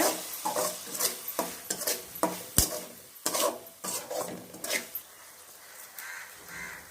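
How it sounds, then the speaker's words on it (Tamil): Soy sauce and tomato sauce are stirred into a roadside-style mushroom masala, producing repeated scraping and clinking strokes of a spoon in the pan over a faint sizzle, with a sharp clack partway through. "இப்போ சோயா சாஸ், டொமேட்டோ சாஸ் 2த்தையும் போட்டோம். அதை நல்லா மிக்ஸ் பண்ணிக்கோங்க."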